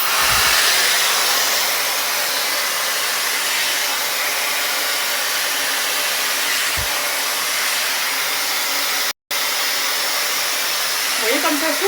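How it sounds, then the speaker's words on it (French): Steady loud hair dryer blowing on wet hair, a continuous broadband whoosh across the whole stretch with one brief cut-out near the end. "Vous voyez comme ça souffle? Donc ça va venir me sécher en fait."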